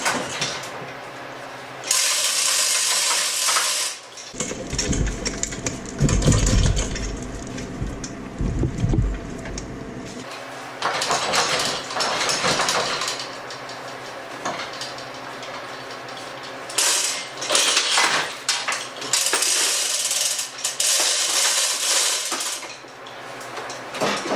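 Metallic ratcheting and clanking in repeated bursts, with chain rattles and scraping as an engine hoist cranks and lifts a car engine.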